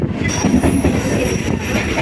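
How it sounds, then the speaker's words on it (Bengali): A suburban train on Kolkata's Chakra Rail line pulls into Kolkata station with a loud, close rumble of wagons and squealing wheels grinding continuously along the track. "কলকাতা স্টেশন ঢুকছে আমাদের ট্রেন"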